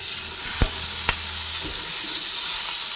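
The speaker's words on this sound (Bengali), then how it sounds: "একসঙ্গে পেঁপে আর আলু দুটোই ভেজে নিচ্ছি" Papaya, potato and capsicum fry in a pan with a loud, continuous close sizzle, broken by two or three sharp spatula knocks against the pan. There is no talking.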